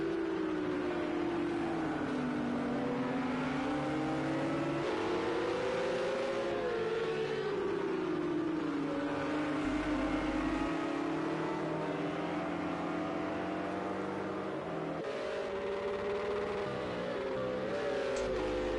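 A race car engine in the video game Project CARS 2 at Spa-Francorchamps drones continuously, its pitch rising and falling as it revs and shifts, steady and sustained with no talking.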